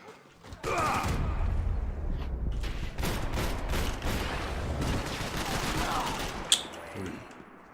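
Rapid, sustained gunfire in the video game Max Payne 3, dense volleys of shots crackling almost continuously for several seconds, with a sharp louder crack near the end and no talk.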